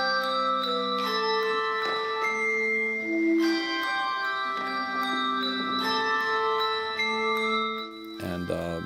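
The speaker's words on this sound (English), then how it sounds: "So I decided, hey, let's put together an entire bell choir." High school handbell choir ringing a melody, clear sustained tones overlapping and decaying, with a burst of quicker, busier ringing at the end.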